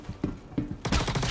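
Gunfire in the video game Star Citizen crackles in a brief exchange, with a few spaced shots followed by a dense rapid burst of fire.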